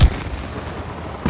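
A pair of heavy, booming gunshots fired in the video game It Takes Two, one at the very start and another near the end, with a low rumbling lull in between.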